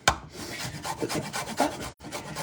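A lime is zested on a grater in a kitchen, giving rapid rasping strokes up close, about a dozen scrapes in a quick rhythm with one brief pause, no talking.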